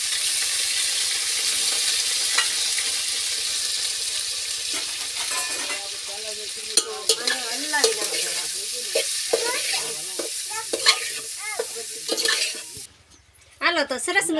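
Tempering for muthiya dhokla sizzles loudly in hot oil at first, then fades as stirring, pot clinks and scraping take over, ending with a brief clatter.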